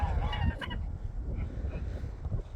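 African-Pomeranian cross geese in a farm pen honk loudly and close, with a few nasal calls at the start over a low rumbling background, then quieter murmuring.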